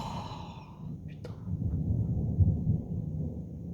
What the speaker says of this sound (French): C'est des gros coups de tonnerre en continu